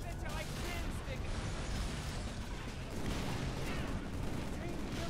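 Dense, sustained gunfire in modded Halo 3, a constant loud wash of shots and battle noise with a voice talking over it.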